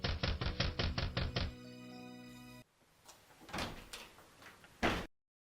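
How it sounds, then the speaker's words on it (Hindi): Knocking on a door during a staged Christmas dance drama comes as a quick, evenly spaced run of about seven sharp raps, followed by sustained musical tones and a few scattered bumps. "यूसुफ ने मदद के लिए किसी का दरवाजा खटखटाया"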